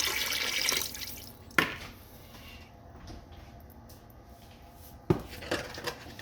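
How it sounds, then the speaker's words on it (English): Water splashes and trickles into a metal soup pot for turkey noodle soup, with a couple of sharp clanks of cookware standing out above the quieter running water. "Add water to it."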